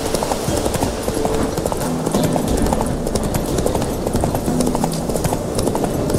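Hooves of the horse Roach in The Witcher 3 clip-clop in a steady, close, continuous rhythm over game ambience, with a brief faint whinny-like tone in the mix.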